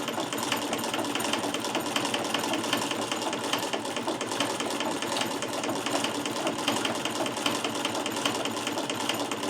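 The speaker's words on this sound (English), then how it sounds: "I'm letting the needle feed mechanism of the Davis do its job" A Davis VF treadle sewing machine stitches knit fabric with a steady, fast mechanical clatter, its needle and feed mechanism ticking evenly and continuously at moderate volume with no talking.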